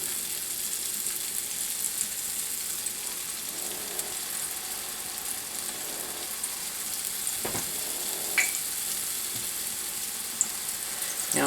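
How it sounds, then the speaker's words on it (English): Cornbread fritter batter sizzles in hot frying oil, a steady close hiss with occasional crackles and faint utensil clicks, with no talking. "it is important that you have your oil hot enough to sizzle."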